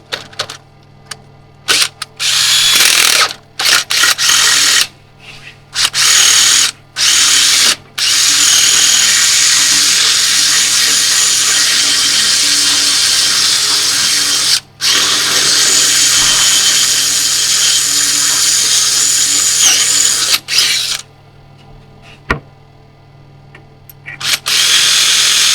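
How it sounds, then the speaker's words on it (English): Power drill boring holes in metal farm gates outdoors: loud, high whining drill bursts run in long sustained stretches, broken by short pauses and brief restarts, close to the microphone, no talk over it. "Right, so just drill the hole."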